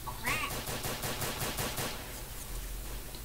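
Rapid pistol shots in a Garry's Mod gun game, a quick regular string of about a dozen sharp cracks that thins out toward the end.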